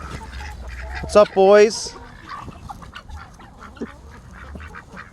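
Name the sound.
ducks quacking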